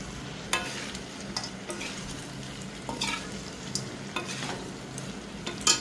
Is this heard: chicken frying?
yes